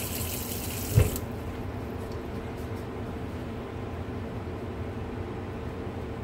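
Tap water runs steadily into a sink while a soap dropper is rinsed. A single brief knock sounds near the start, then an even, continuous stream.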